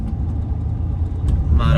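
BMW E30 running at low speed, a steady mid-pitched engine drone and road rumble inside the car, with a brief click and a louder hiss rising at the end.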